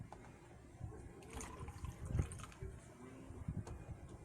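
Water being poured and splashed to wash oil off a surface aboard a boat, a faint trickle and slosh with a few small splashy bursts, heard close and without speech.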